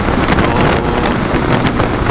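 Strong wind buffets the microphone while riding a motorcycle on a touring trip through the Philippines, a continuous loud roaring rush with gusty swells and no talk.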